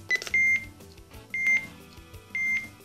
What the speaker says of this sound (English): the master sends on the line an audible intermittent beep